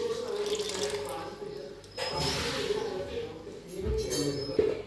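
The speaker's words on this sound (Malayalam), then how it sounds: "ഇനി നമുക്ക് തേങ്ങയുടെ 2ാം പാൽ അങ്ങോട്ട് ഒഴിച്ച് കൊടുക്കാവേ" Second coconut milk pours into a pot of payasam, a soft liquid splash and trickle running close by, with a voice talking over part of it.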